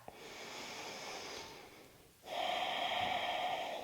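A slow deep breath during a yoga hip practice, a long airy inhale, a brief pause, then a fuller, louder exhale, close to the microphone.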